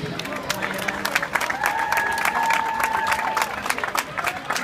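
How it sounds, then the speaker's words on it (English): Crowd applauding and cheering for both fighters after a bout at a combat-sports event, steady clapping with a few whistles and shouts, fairly close and loud. "Ladies and gentlemen, a round of applause for both fighters."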